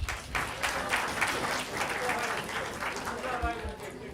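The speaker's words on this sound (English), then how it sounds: "but a round of applause for him." Applause from an audience at a mosque volunteer appreciation dinner, a steady spread of clapping lasting several seconds at moderate level, with some voices mixed in.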